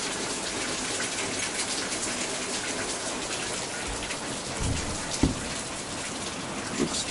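Heavy rain pours outside a truck camper, a steady dense hiss of drops drumming on the surface, with a few louder knocks and splashes near the end.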